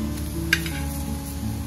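Quartered tomatoes roast in a pan for mutton curry masala, a soft steady sizzle with one brief scrape of a spoon stirring, close and moderately quiet.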